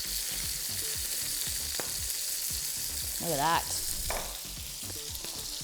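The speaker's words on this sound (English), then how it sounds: "Can you hear the sizzling?" Chicken pieces fry skin side down in a hot pan, giving a loud, steady sizzle and crackle that runs the whole time, with a brief voice heard over it.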